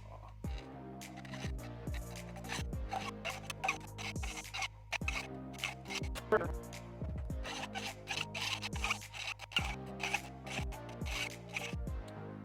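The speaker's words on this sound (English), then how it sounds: "I'm going to go ahead and cut these in with the hacksaw." A hacksaw cuts through an oiled steel bar in a rhythmic back-and-forth rasp, with repeated strokes sounding close and steady throughout.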